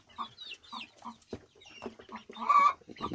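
Small young chicks clucking and peeping close by in short, irregular bursts as they try carrot for the first time, with a louder drawn-out cluck near the end and occasional soft rustling between calls.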